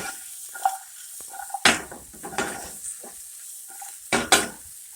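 Broccoli florets hit a hot sauté pan with sharp bursts of sizzling, two strong loud bursts and several smaller crackles, with quiet gaps between them.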